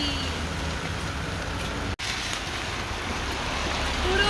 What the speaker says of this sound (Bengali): আমি আজকে ঘুরতে বেরিয়েছি আর আজকেই বৃষ্টি নেমেছে